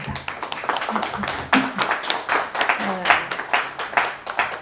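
An audience claps for an elderly guest at a Korean commemorative talk event, scattered, uneven hand claps at close range, some louder than others, with voices mixed in.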